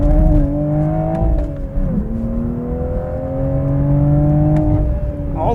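A Toyota Supra A90 Final Edition accelerates hard in sport mode with stability control off, its engine note climbing steadily through the gears with a brief dip at a shift, loud and continuous from inside the cabin.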